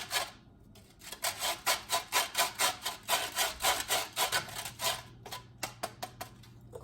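Salt grated by hand over egg salad, heard as a steady run of rhythmic rasping strokes, close and moderately loud, slowing toward the end, with no voices.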